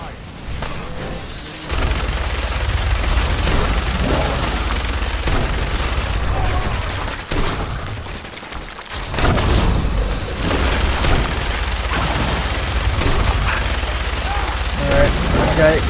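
Sustained bursts of Fallout 4 gunfire, loud and dense throughout, with heavy booming shots and rapid firing that dip briefly in the middle before resuming at full intensity.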